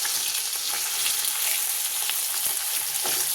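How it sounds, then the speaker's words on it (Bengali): Pomfret frying in oil in a kadai gives a dense, continuous hiss and crackle, close and steady with faint pops and no voices. "এই যে কড়াতে মাছ ভাজা হচ্ছে"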